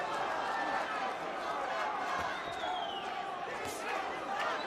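Puerto Rican crowd chanting at a WBC light welterweight title boxing match, a dense roaring arena din that holds steady throughout, with a commentator's voice running over it.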